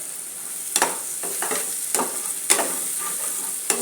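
Spice powder, tomato and onion sautéing in oil, a soft continuous sizzle broken by several sharp scraping stirs of a spoon against the pan.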